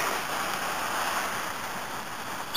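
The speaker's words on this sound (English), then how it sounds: "Waterfalls coming down from Cwm Llan." A tumbling river and waterfalls pour down from Cwm Llan, a constant broad rushing roar heard close and loud throughout without a break.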